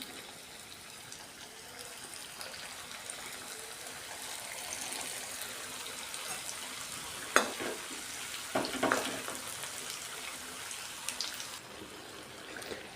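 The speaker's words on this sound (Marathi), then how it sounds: "दोन्ही साईडला आपण याला अलट पलट करून इथं फ्राय करून घेतोय" A breakfast snack fries in oil and gets flipped from side to side, a soft continuous sizzle with a few sharper clatters and scrapes as it is turned.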